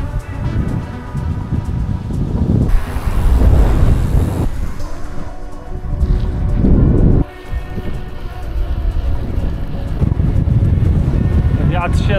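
Strong wind roars in gusts across the microphone over open fields, a heavy rumbling buffet that swells and dips throughout, with a brief lull partway through.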